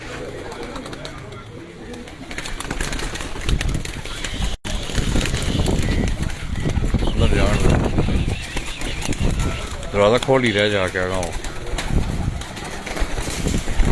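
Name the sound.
pigeons in a new loft setup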